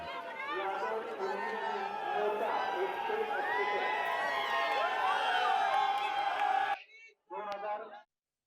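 BJP workers cheer and celebrate an election victory in a local body poll, a dense crowd of shouting, whooping voices filling the scene loudly and continuously before cutting off, followed by a brief burst of cheering.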